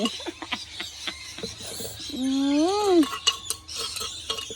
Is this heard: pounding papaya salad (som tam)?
yes